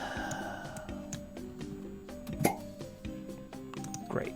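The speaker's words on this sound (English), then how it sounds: "Cork pop" A cork pop sound effect previewed during a game dev stream: a sharp single pop stands out near the middle, with a second softer pop near the end, over a bed of steady musical tones.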